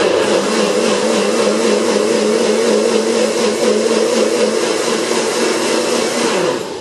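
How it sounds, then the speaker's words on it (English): Blender blitzes a stock mix for a vegan tray bake, a loud, steady motor whine running unbroken for about seven seconds and cutting off at the end, with no talking over it. "So now we're just going to blitz up our mix, our stock."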